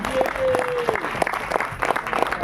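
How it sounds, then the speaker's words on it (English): Applause from the crowd at a song launch event, a scattered burst of clapping mixed with a whistle and crowd noise, fairly close and uneven. "can we have a huge round of applause, everybody?"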